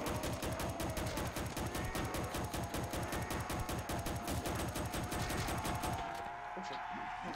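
Sustained rapid-fire automatic gunfire in the Roblox game Recoil Zombies, with a steady, dense rhythm of shots that runs for about six seconds and then stops abruptly.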